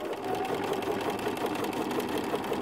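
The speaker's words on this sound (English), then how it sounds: "So I'm going to stitch now down to the next corner." A sewing machine stitches fabric with a quarter inch foot, a steady fast close whirr of needle strokes running without pause and with no talk.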